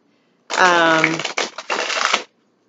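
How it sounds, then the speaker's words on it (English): A quick riffle of tarot cards being shuffled, a dense papery flutter lasting under two seconds, close and crisp, with silence around it. "So I'm just going to shuffle a couple more times."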